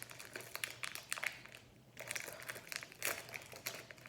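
A Pokémon card booster pack torn open up close, with crisp foil crinkling and tearing in uneven bursts broken by a short pause, no talk.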